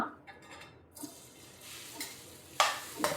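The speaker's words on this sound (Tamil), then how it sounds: "இப்போ இதில் சாதம் போட்டு கலந்துடலாம்" Cooked rice is stirred into fried rice in a pan: faint sizzling under a few soft scrapes and taps of a spatula, ending in a sharper clink, close and brief, with no talk.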